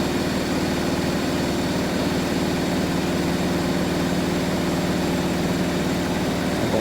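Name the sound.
Hoover A3060 and Miele W562 washing machines running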